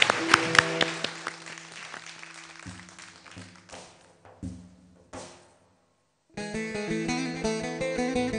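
Applause from a Turkish folk music audience, a burst of clapping that quickly thins and fades as plucked instrumental music rises and takes over.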